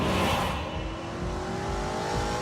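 A V8-engined car in The Grand Tour video game accelerates hard: a loud, close engine roar climbing steadily in pitch as it revs, with no talking.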